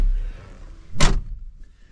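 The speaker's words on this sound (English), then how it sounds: "I'll close the door." A car door slams shut with a single sharp, close thud inside a quiet interior, followed by near silence.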